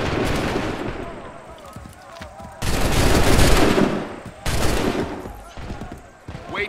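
Musket volleys in Assassin's Creed 3 during a George Washington battle: bursts of massed gunfire crack out in loud waves, with a big volley near the middle and another shortly after, over a rumbling battlefield din and shouted commands.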